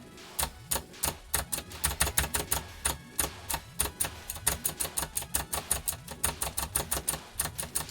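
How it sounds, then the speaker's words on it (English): Rapid, close keyboard typing during a rhythm game session, with crisp clicky keystrokes in a fast steady stream that grows denser and more regular toward the end, no talking. "you're gonna have keyboard sounds, by the way"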